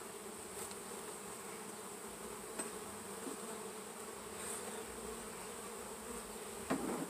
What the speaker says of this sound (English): You can hear the bee sound.